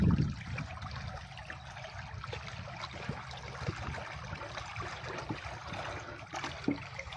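Canal water released through a field outlet into farmland during an irrigation turn: a steady, close gushing and trickling flow with low churning undertones and no speech.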